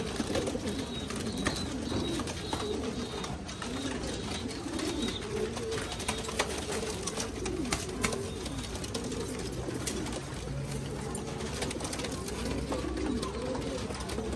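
Pigeons coo in low, repeated rolling calls throughout, steady and moderately close over a constant background hiss, with no talking.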